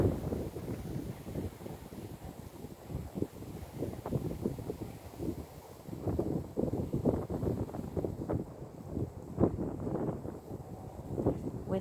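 Wind gusts across an open sheep field in January where ewe lambs are kept, a steady rough rumble of buffeting against the microphone that swells and dips throughout, close and fairly loud, with no clear voices.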